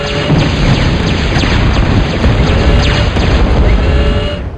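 Continuous loud blasts and crashes of units being destroyed in a real-time strategy video game, a dense roar of overlapping explosions with no pauses, heard alone.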